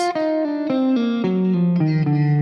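A distorted electric guitar plays a short lick from a guitar solo, about eight sustained notes stepping downward, thick with effects and a little reverb.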